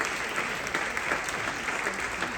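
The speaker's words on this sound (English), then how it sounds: "Let's all give Meredith a round of applause" Applause fills a hall at a chamber of commerce holiday gala and awards night as the crowd honours Meredith, a continuous even wash of many clapping hands that stays moderately loud with no talk over it.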